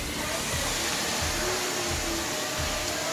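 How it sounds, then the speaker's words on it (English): A household vacuum cleaner runs at close range with a loud, steady whooshing roar and faint rhythmic low thumps as it moves across the floor. "You gonna vacuum a little bit?"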